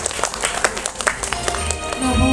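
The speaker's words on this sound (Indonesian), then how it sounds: "Boleh dong minta tepuk tangan semangat yang paling meriahnya." Visitors at a cockatoo show at Bandung zoo applaud in a steady patter of clapping from a mid-sized crowd, with voices mixed underneath.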